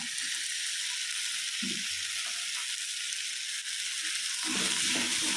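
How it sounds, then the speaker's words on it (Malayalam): Ginger, green chillies and curry leaves fry in a pan with tomato and potato for a prawn roast, giving a steady close sizzle with a few soft stirring scrapes and no talk. "ഇനി നമുക്കിതിലോട്ട് ഇഞ്ചി പച്ചമുളക് വേപ്പില ഇട്ട് കൊടുക്കാം"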